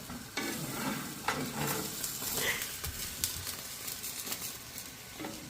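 Chili sauce base bubbling and cooking down in a pot at an outdoor chili cook-off, a steady sizzling, stirring hiss with occasional scrapes, fairly close and continuous.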